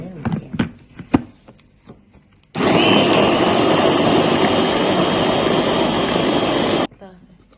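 A blender whirs loudly for about four seconds while mixing orange cake ingredients with juice, oil and orange peel, starting abruptly after a few short knocks and stopping sharply.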